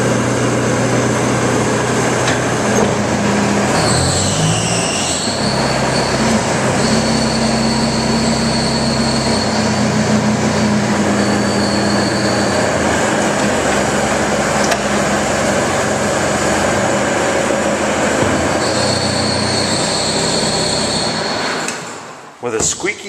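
A one-owner 2003 Bobcat T200 tracked loader, standard flow, with a squeaky fan belt, idling after startup: a loud, steady diesel drone with a high whine and squeals layered on top, running continuously until it cuts off near the end.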